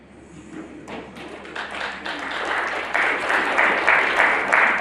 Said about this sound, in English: Muted applause.